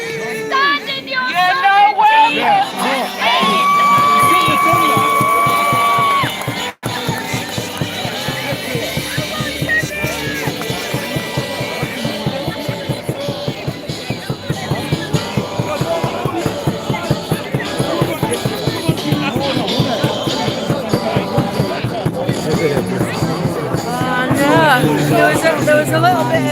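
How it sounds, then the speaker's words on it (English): Protest crowd at a street freedom demonstration in York, many voices shouting and yelling in uproar, loud and continuous throughout with dense babble and occasional louder cries. "There was a little bit of hoo-ha in the crowd there saying don't let him speak."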